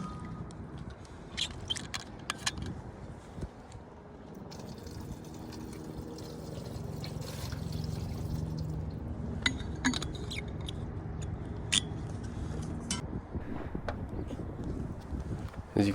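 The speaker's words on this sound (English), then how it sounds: "I poured 2 water bottles directly down that downspout" Two bottles of water poured down an upper roof downspout, a steady trickling pour with faint clinks, wind buffeting the microphone outdoors.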